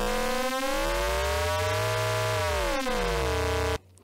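Synthesizer tone from two multiplied oscillators with the second detuned, giving sweeping, crossing harmonics that shift and beat continuously before stopping abruptly.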